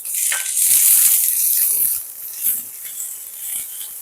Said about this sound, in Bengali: এটা খুব খানিক্ষণ একটু ভেজে নেব